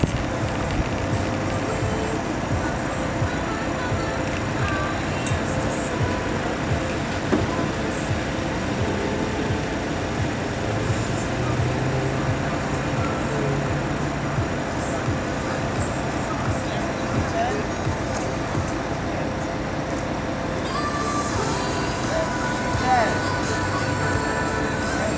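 A yellow Lamborghini Gallardo drives with a steady low engine rumble and road drone heard from inside, while voices talk over it.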